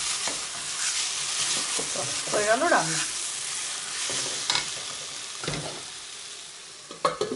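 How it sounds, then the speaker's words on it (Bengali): Poppy seeds (posto) fry on high heat in a pan, sizzling steadily while a spatula stirs and scrapes in bursts close by, and a person speaks briefly. "এটাকে আমি আঁচটা বাড়িয়ে দিয়ে একটু ভাজা ভাজা করে নেবো"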